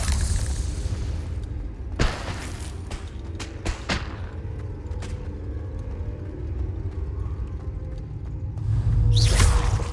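The Confringo blasting spell goes off in Hogwarts Legacy, with a sharp boom and whoosh near the start. Several smaller thuds and cracks follow, then a loud rumbling blast at the end.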